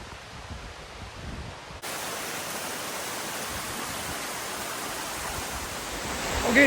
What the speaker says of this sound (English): we're at the base of the waterfall and it is rapidly flowing down through this wash area